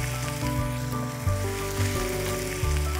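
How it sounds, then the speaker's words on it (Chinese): Chicken frying in a pan for a Guangdong Zhaoqing crab-and-chicken pot, giving a steady close sizzle with low crackling and bubbling throughout, no talking. "把鸡呢煎到金灿灿的时候呢"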